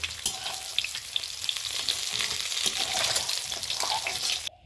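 Boiled eggs fry in oil in a wok for an egg and new potato curry, giving a steady, close hiss and crackle that carries on evenly before stopping abruptly.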